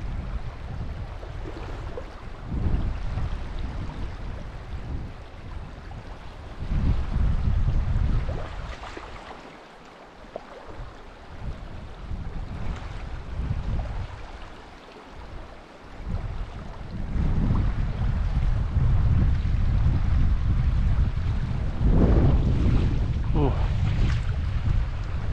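Wind gusts outdoors on open water, a low roaring buffet that surges and fades in waves across the whole stretch, loud and close on the microphone.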